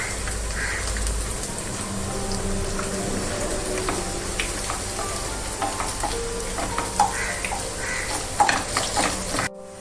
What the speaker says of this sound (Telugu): ఎండుమిరపకాయలు దీంట్లో వేసుకుంటాం